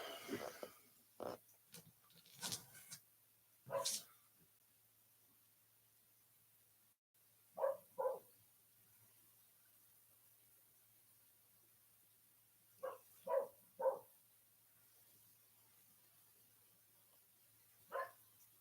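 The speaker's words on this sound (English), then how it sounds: "Yeah, the dog really barking now." A dog barks outdoors in short, faint bursts of two or three barks, separated by long stretches of quiet, with the sound coming from some distance away.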